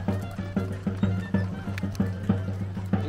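Horses at a quinceañera celebration in San José de las Flores, Güémez, Tamaulipas, neigh and whinny over rhythmic clip-clopping hooves, fairly close and steady, with people talking in the background.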